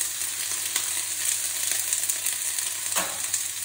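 Onions frying with carrots, peas, beans and corn for upma, giving a constant bright sizzle with occasional scraping stir strokes, up close and without talking.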